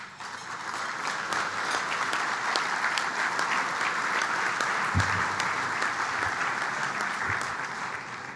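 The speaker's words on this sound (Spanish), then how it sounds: "me gusta que aplaudan" Sustained audience applause at a business luncheon with the country's president, steady full-room clapping close and fairly loud, with a few low thumps.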